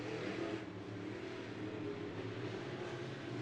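Race cars circling a clay dirt oval at Bakersfield Speedway during heat race test and tune, a steady distant engine drone with faint rising and falling revs, no talk.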